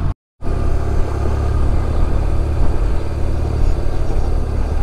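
A BMW R1100RT motorcycle pulling into a fuel station, its engine a loud, close, steady low rumble after a brief cut at the start.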